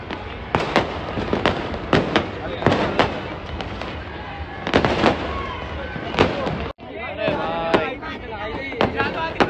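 Firecrackers set off at a 15 August street celebration crack in a rapid series of sharp, loud bangs, some close together, with voices talking and shouting in between.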